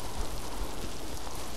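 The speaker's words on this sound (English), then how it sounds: "Yep, it's just raining in here." Steady rain patter falls inside a house in the video game Miasmata, a continuous even hiss of drops at moderate level with no voices.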